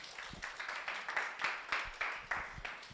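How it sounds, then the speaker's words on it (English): Scattered applause from a university audience at a student public speaking competition, moderately distant and fairly thin, with individual claps standing out in an uneven rhythm for a few seconds. "Please give round of applause"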